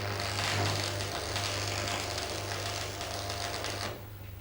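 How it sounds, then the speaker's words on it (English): Arc welding of a tack weld at one end of clamped metal parts, a steady loud crackling buzz with a low hum running for about four seconds before dropping off, no talking. "Tack weld as before at one end."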